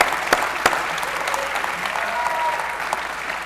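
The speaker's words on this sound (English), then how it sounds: "Give them another round of applause." An audience applauds steadily at a lecture-series event, dense sustained clapping filling the room with a few sharper individual claps standing out, continuous throughout with no break.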